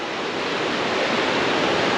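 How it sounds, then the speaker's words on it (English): Sulphur Creek rushing down beside a massive debris pile at Sulphur Slide on the Middle Fork Salmon, a steady, loud, broadband roar of whitewater close by with no voices. "the creek coming down, Sulphur Creek on the other side"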